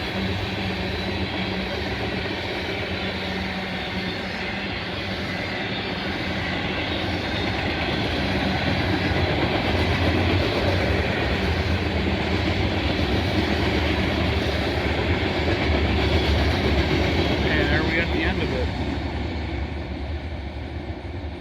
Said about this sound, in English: Mixed freight heading east at Oak Harbor.